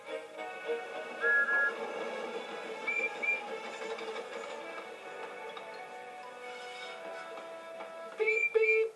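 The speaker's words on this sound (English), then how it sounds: ""Beep, beep," whistled Percy." A tank engine from a children's railway story gives a few short, bright whistle toots, separated by gaps, over a soft musical background.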